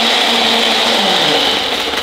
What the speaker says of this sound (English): Step four, you need a blender.